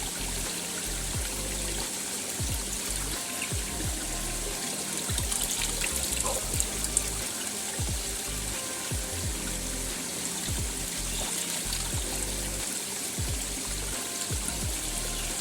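Fresh natural spring water trickling and dribbling in the Konkan countryside, a continuous close splashing stream with irregular small drips and gurgles, steady and alone throughout.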